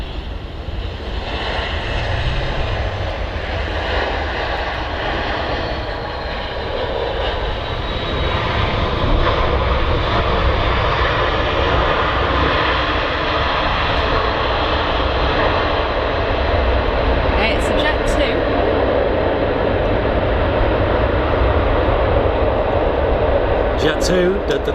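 A steady, broad roar from an airliner engine at Manchester Airport persists throughout, even and fairly loud, with no voices.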